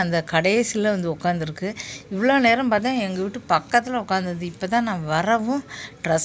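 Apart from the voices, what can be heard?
No everyday noise stands out behind the speech.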